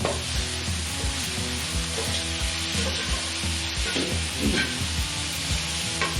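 Meat browning in a pan sizzles and crackles steadily at close range, with a soft stirring scrape now and then and no talking.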